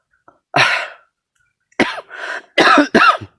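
A series of harsh, wet coughs: one burst, a pause, then several close together, loud and near with no talking.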